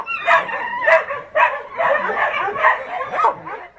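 Dogs bark and yip close by in quick, overlapping bursts, around seven sharp barks in under four seconds, with a few higher whining notes mixed in.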